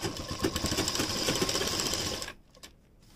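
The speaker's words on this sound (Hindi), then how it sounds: "अब यहां पर सिलाई लगाएंगे।" Sewing machine stitching along the folded side slit of a kurti, a fast close rattling hum that runs steadily for about two seconds, then stops abruptly, leaving a few faint clicks.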